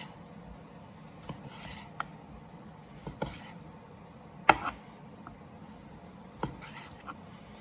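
Sous vide steak being sliced with a knife, a series of soft, irregular cuts and scrapes against a board, with a few sharper clicks, quiet and close.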